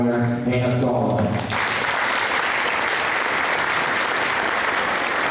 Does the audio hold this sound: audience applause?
yes